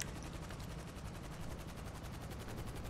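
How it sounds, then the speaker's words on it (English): Rapid machine gun fire in a game, a dense continuous rattle of shots at fairly low level, unbroken for the whole stretch. "Machine guns."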